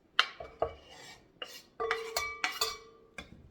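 Vegan crab cake mixture goes into a bowl with shallots, heard as a handful of sharp clinks and scrapes of a utensil against the bowl, close and fairly quiet.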